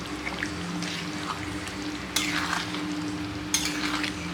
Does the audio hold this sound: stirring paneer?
yes